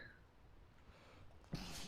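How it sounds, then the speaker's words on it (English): A sudden, sharp sneeze bursts out near the end of an otherwise quiet stretch, close and loud. "That was quite the sneeze."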